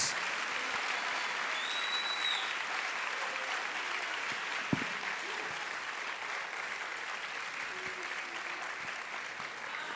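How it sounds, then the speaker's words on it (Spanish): Applause from a church congregation after a call to praise God, a steady dense clapping wash that holds evenly throughout with no voices standing out. "Denle un aplauso fuerte a aquel que vive y reina por los siglos."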